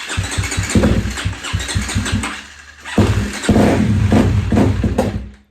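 A dirt bike that has been sitting in the cold cranks in a quick, rapid rhythm on a recharged battery, then catches and fires into a rough, loud, close engine run.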